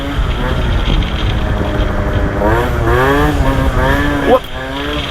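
A Nitro 70 scooter with an Athena 70cc kit and stock 17.5 carburetor revs loudly and up close, its two-stroke buzz rising and falling in repeated throttle blips with a sharp spike near the end.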